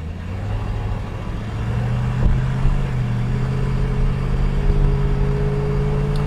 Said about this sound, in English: Car idles well,